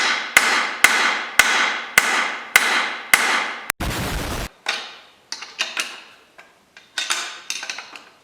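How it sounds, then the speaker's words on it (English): A hammer strikes a stripped bolt in a series of about seven loud, evenly spaced metallic clangs, close up. A short burst of harsh scraping noise follows, then quieter, irregular clinks and taps. "I'm going to try and hit it with this hammer"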